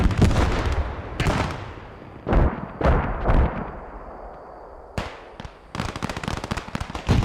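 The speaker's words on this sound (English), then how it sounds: "Commander smoke artillery on this flank." Smoke artillery barrage in the game Post Scriptum: a series of loud, sharp booms and cracks at irregular intervals, some close and heavy, others lighter and clustered, with quieter rumbling gaps between.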